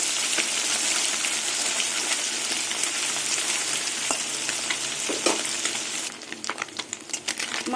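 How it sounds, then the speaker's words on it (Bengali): Puti fish frying in mustard oil give a dense, continuous sizzle with occasional spits and pops, thinning into sparser crackles in the final seconds. "মাছগুলো একটু কড়া করেই ভেজেছি"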